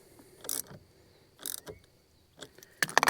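A 10 mm wrench snugging down the battery terminal on a 2011 Ford F-150: a few short, scattered metallic clicks and scrapes close by, with quiet gaps between them and no talking.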